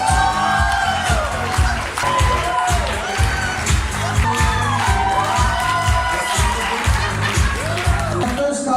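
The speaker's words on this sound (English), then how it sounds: "So can I please have a big round of applause for Mr." Crowd at a wedding reception cheering, whooping and clapping loudly and continuously, with children's shouts mixed in over steady background music.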